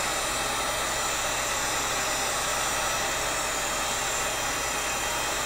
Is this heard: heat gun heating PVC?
yes